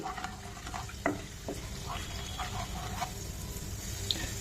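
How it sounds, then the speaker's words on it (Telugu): Soft steady sizzling of tempering spice seeds frying in oil for an egg curry, with occasional faint pops and light stirring scrapes. "పోపు గింజలు వేగిపోయాయి కదండి"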